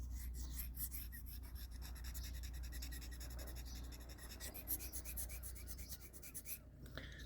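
A new USA-made Boker penknife blade is drawn across a sharpening surface in quiet, rhythmic rasping strokes, soft and close against a low steady hum.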